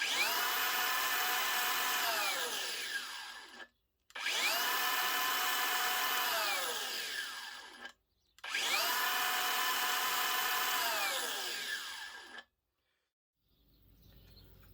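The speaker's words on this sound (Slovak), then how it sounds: "Používa rýchlu brzdu výkonného brushless motora do 2 sekúnd." A Narex CBU 125 cordless brushless angle grinder on a 4Ah battery whines loudly at full speed, then brakes to a stop within two seconds, three times in a row with short pauses between runs.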